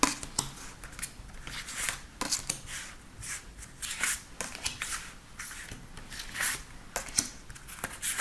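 Tarot cards are shuffled and drawn in a steady run of quick riffling bursts and crisp flicks, close and clear, with no talk over them.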